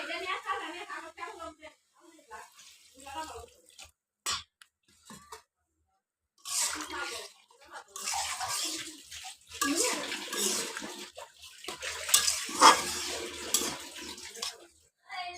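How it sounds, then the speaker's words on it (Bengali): Water poured into a cooking pot of taro being prepared, a splashing gush in several uneven bursts, heard close by alongside someone speaking. "এই দেখুন এবার জল দিয়ে দেবো"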